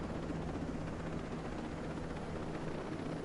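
A helicopter flies in the video game Ghost Recon Breakpoint, heard as a steady, dense rotor and engine roar that stays even and unbroken throughout.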